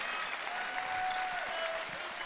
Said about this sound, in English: Well, the local crowd really enjoying this game